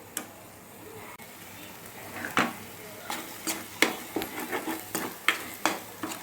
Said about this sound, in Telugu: చూడండి, మసాలా అనేది బాగా ఫ్రై అవుతుంది. ఇది పచ్చివాసన పోయే వరకు ఫ్రై చేసుకోవాలండి.